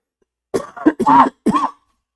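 Several harsh, close coughs in quick succession, one drawn out with a throat-clearing rasp, loud against silence.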